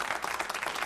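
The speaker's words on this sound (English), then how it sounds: "Two people are clapping in the back row." A small audience clapping sparsely, thin uneven applause from only a few hands, steady and close for about a second with no voices.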